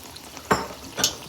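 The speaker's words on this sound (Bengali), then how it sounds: "এইভাবেই আমি সব পিঠেগুলো তৈরি করে নেব একটু লাল লাল করেই ভাজবো" Rice-cake pitha frying in hot oil, heard as a soft, steady sizzle with two brief louder bursts as the cakes are moved or stirred in the pan, close by with no speech.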